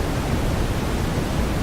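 Pink noise from a Feedback Modules Static synth module: a steady, even hiss with a slightly dark tilt, holding at a constant level for its short duration.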